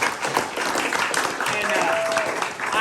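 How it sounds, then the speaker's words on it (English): A crowd at a campaign gathering at Beebe Home applauds local elected officials, a dense, steady wash of clapping that holds at an even level throughout, with some voices mixed in. "let's give a round of applause for our local electeds"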